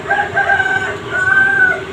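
A rooster on a farm crows loudly and close by in two long, drawn-out calls, with steady farmyard noise underneath and no talk over it.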